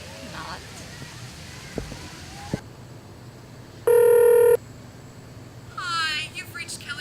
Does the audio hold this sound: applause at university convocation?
no